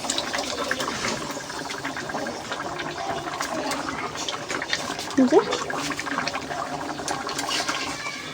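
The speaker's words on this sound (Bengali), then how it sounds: "ঝোলটা ফুটে গেছে, এবার ভেজে রাখা মাছগুলো দিয়ে দেব" Boiling fish curry broth bubbling in a pot over a wood fire as fried fish pieces go in, a continuous churning simmer with a brief splashy plop midway, close and moderately loud.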